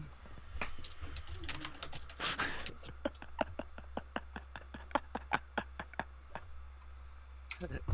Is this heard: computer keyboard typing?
yes